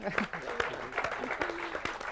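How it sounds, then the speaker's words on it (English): Scattered audience applause for a school project at an Erasmus+ charter presentation, a mix of separate claps with voices talking over it. "Maybe an applause for that?"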